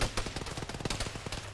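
Rapid bursts of M2 heavy machine gun fire from an MRAP vehicle in a military video game, a fast continuous rattle of shots, moderately distant and fairly quiet, with no voices.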